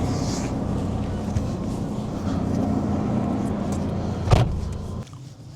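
A car with a freshly installed engine and no coolant idles steadily while being moved, with a low engine drone, a brief mechanical thump near the end, then quieter running.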